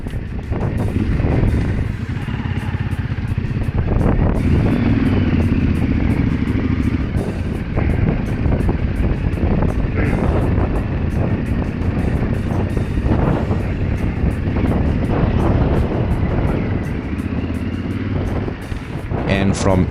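Yamaha Tenere 700 motorcycle fitted with Tractive Extreme suspension, riding on slippery icy ground with a constant loud engine drone and heavy wind buffeting, with a rider speaking over it.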